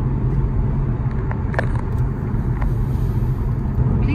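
A car driving fast on a UK highway at around 100 km/h, with steady loud road and tyre rumble and engine drone throughout, no talking.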